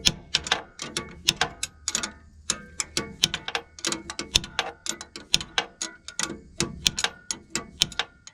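A nut on a machine is being loosened by hand, giving a rapid run of sharp metallic clicks and ticks in an uneven rhythm, close and clear with no talking.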